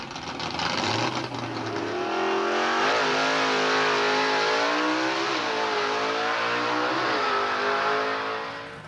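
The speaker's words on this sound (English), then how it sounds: "Now let's follow Ed Stagana as he gets ready to make a pass in his 1940 Studebaker gasser at Vargo Dragway in Poughkeepsie, Pennsylvania." A 1940 Studebaker gasser drag car revs hard at a dragway, its engine climbing and surging in loud sustained waves with rising and falling pitch for several seconds before easing off.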